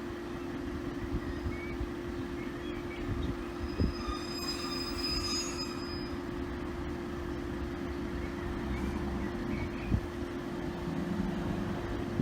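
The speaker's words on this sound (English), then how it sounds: "train's just arrived in" A train arriving at the Fiskerton level crossing, with a steady rumble of wagons, a sustained metallic hum and high squealing wheels, plus occasional clunks as it rolls in at moderate distance.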